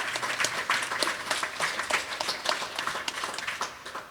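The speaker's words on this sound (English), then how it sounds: "Please give a round of applause to them." A round of applause from an audience at a homelessness conference panel, a brisk, moderately loud patter of many hands clapping steadily for a few seconds.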